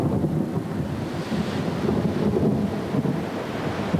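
Rumbling thunder and gusting wind over crashing waves at sea, a dense continuous roar without talking.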